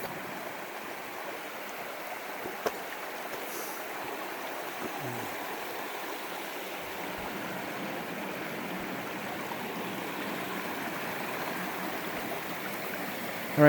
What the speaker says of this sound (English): two decent sized creek crossings that you have to make on the Whispering Pines Trail, and this is the first one